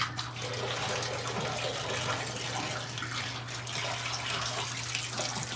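Tap water runs steadily into a sink while someone wets their face between shaving passes, a continuous close splashing rush with no talk.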